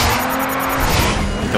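Race cars drift through a corner in the racing game Race Driver GRID, with a loud, sustained tire squeal over a constant engine roar, close and unbroken for the whole moment.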